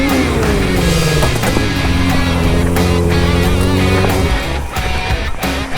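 A car engine drones loud and close during sit-down circles in a parking lot, its pitch dipping and rising as the car spins, with rough scrubbing noise throughout.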